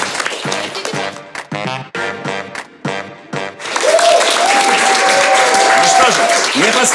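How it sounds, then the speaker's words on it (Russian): Studio audience at a historical quiz stand-up show breaks into loud, sustained applause and clapping for the contestants, with a sustained tone and crowd noise underneath. Speech comes first, then the clapping swells and holds to the end. "Аплодисмент нашим участникам."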